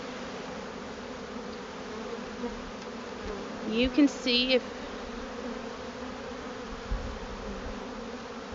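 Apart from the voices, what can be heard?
honey bees buzzing during hive inspection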